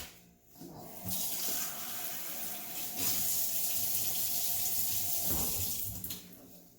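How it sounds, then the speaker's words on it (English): Tap water runs in a steady, fairly loud rush into tapioca flour for fresh rice noodle dough, starting after a brief pause and flowing for about five seconds before tapering off. "Okay, and then we're going to slowly add in water."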